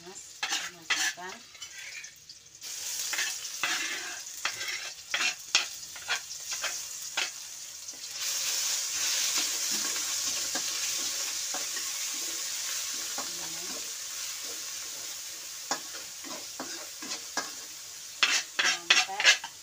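Spice paste for an Indonesian yellow-spiced milkfish dish frying in a little oil, a continuous close sizzle broken by repeated stirring scrapes and clinks, with water running briefly near the end.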